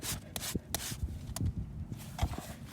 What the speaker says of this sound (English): we're gonna get our rasp here and clean it up a little bit and make it all level